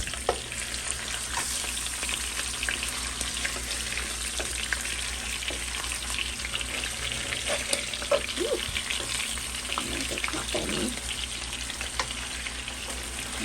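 A halibut fillet fries in a pan after being flipped, giving a loud, steady, close sizzle with faint crackles and occasional soft knocks throughout.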